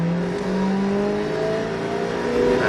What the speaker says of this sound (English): It's a pretty effective car chase sequence.